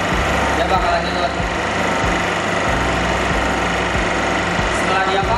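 A refrigerant recovery machine runs in recover mode, pulling refrigerant with a loud, steady mechanical drone and a rapid knocking pulse that persists throughout.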